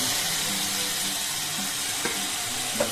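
Mayonnaise chicken curry sautéing in a pan gives a steady broadband sizzle and hiss, with a couple of faint stirring knocks near the end and no voices.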